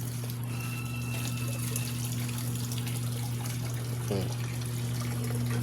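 Water poured over a fresh green coconut (buko) to rinse off mud outdoors, a steady splashing flow running throughout with a constant low hum beneath.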